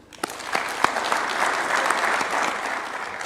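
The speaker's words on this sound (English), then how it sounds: "to give a warm round of applause for His Excellency the President." An audience at a formal diplomatic event applauds a head of state, a dense burst of clapping from a sizable crowd with a few sharp claps standing out over roughly three seconds.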